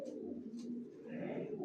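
Caged young racing pigeons cooing in a low, continuous throaty burble, several birds overlapping at close range, soft and unbroken.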